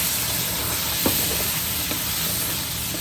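Light soy sauce poured into a hot pan of shrimp for a Chinese-style shrimp dish: a steady, loud sizzle and hiss of frying with a couple of faint stirring clicks.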